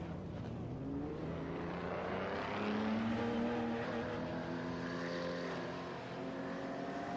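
GTE and GT3 race cars roll through a formation-lap rolling start in the iRacing sim, several engines droning together in a continuous, rising and falling hum with shifting tones.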